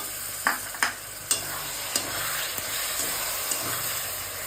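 Masala paste with tomato sizzles and fries steadily in a pan for ghugni, a continuous close hiss broken by several sharp stirring scrapes, with no talking.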